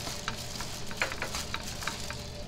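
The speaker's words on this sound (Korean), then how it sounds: "기름이 들기름 부어가지고 이제 볶아." Wild aster greens stir-fry in perilla oil in a pan, a soft steady sizzle with light scraping and ticking stir strokes, close and moderately quiet.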